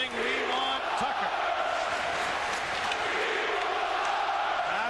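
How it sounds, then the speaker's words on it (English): A hockey arena crowd at an Islanders versus Maple Leafs game chants in unison for Tucker, a broad rhythmic roar filling the building, heard at a distance beneath the general crowd noise. "The crowd chanting, "We want Tucker.""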